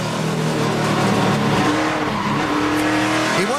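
A NASCAR Nationwide Series race car at Road America roars loudly at close range while its rear tire hops, bounces and spins, producing squealing, skidding tire noise over the engine.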